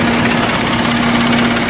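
A 1998 John Deere 5310 tractor fitted with a 145 loader idles, its diesel engine giving a steady, loud, close hum with a constant tone and rough rumble.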